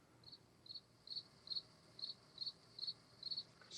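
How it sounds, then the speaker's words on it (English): Crickets chirp in a night scene of the 1968 horror film Night of the Living Dead, a steady rhythm of short bright pulses repeating about twice a second over faint background hiss. "Try not to pay attention to the constant cricket chirping"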